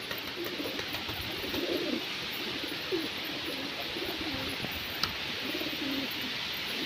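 Pigeons coo repeatedly in soft low rounded phrases close by during hand training, with a few faint chirps over a steady background hiss and no talking.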